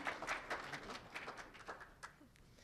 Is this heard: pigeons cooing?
no